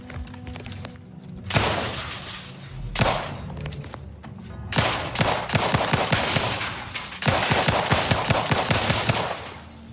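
Pistol gunfire in The Outer Worlds 2 comes in several clustered bursts of sharp, close shots, the rapid cracks separated by short pauses, with impact and shattering noises mixed in.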